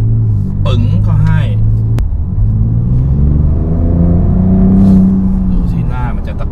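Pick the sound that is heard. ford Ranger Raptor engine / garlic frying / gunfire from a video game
ford Ranger Raptor engine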